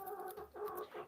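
Several chickens cluck and chatter close by inside a coop, overlapping calls rising and falling in a busy, continuous flock murmur.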